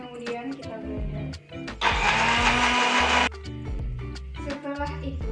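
A kitchen blender grinds shallots, garlic and chilies for anchovy sambal in a loud, whirring burst of about a second and a half, set among clattering handling sounds before and after.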